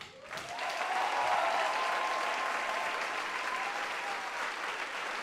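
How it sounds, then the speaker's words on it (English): A large crowd breaks into sustained applause, steady and full for several seconds after a quick start. "Uli and Esther from WUK Performing Arts, please, a big applause"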